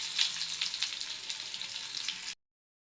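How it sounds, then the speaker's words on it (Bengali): Chopped onions sizzling in hot oil with whole cumin and garam masala, a bright close crackle lasting about two seconds before cutting to silence. "এরপর দিয়ে দিব আমি পেঁয়াজ কুচি"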